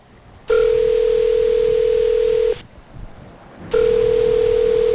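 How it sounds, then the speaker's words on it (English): Telephone ringback tone during an outgoing call: a loud, steady two-second tone, then a pause of about a second, then the tone starts again, with no talk over it. "let's try to call Freddy again."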